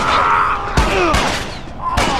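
Loud gunshots in The Last of Us: Left Behind, three sharp blasts spaced out over a couple of seconds, with a lingering rumble and tonal background between them.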